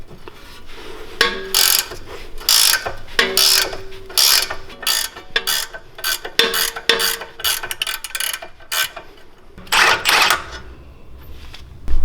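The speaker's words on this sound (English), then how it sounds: "Get our 13/16 ratchet wrench." A 13/16 ratchet wrench works a bolt on the suspension of a 2011–2016 Ford Explorer during a leveling kit install, with bursts of rapid clicking pawl ratcheting repeated in short strokes and brief pauses between them.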